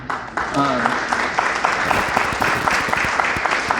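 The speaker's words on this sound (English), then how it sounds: "give a round of applause to the band" Dense clapping from a crowd fills the space, steady and sustained, with a voice briefly audible near the start.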